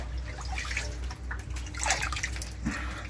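Rainwater from a heavy downpour in Jerusalem draining slowly through a small window opening, close irregular dripping and trickling splashes over a low steady wash of water.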